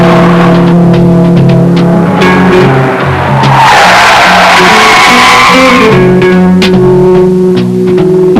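A car driven hard around a closed driving test course in 1970s Australia, its engine revving up and down with tyres squealing through the turns, loud and close throughout.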